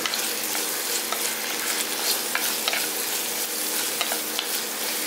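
Shallots and onion fry with mustard seeds in a pan, a dense continuous sizzle broken by scraping clicks as the mix is stirred, close and steady throughout.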